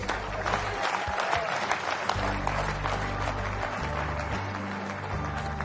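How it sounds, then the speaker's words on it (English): Loud, dense applause from a large audience at a leadership talk, sustained and steady throughout with a low hum underneath and no talking over it. "Clap loud."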